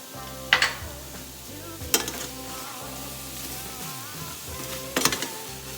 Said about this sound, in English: Now we're gonna go ahead and add our shrimp. And the salt and pepper mixture.